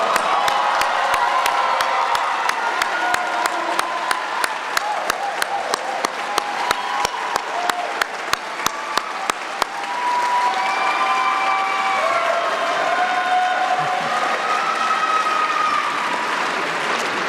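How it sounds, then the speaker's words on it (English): A large commencement audience applauds graduates at a fall ceremony, dense sustained clapping with some cheers and whistles throughout, steady and loud, shifting in texture partway through as it carries on. "Let's give them one more round of applause"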